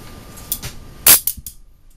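A gunshot at a shooting range rings out as one sharp, loud crack, followed by a few smaller clanks and pops nearby.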